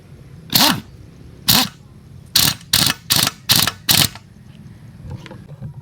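A pneumatic impact wrench loosening a 12mm exhaust bolt fires a series of about seven short, loud, rattling bursts. The first two are spaced apart, then five come in quick succession, with a faint hiss between them.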